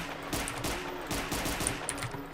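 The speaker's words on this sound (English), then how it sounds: "I'll just use the pistol for now." Repeated gunshots from a pistol in the Resident Evil 2 Source mod game, several sharp cracks over a steady background hum with no talking.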